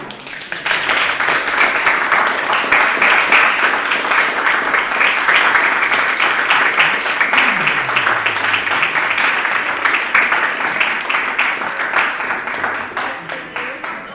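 Audience applause after an artist talk, a sustained steady wash of many hands clapping at close range, running unbroken for the full stretch with a brief low voice-like murmur in the middle.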